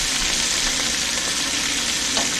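Onions sizzle in a hot frying pan while chicken marsala is being cooked, a steady loud hiss of frying that carries on evenly throughout with no talking.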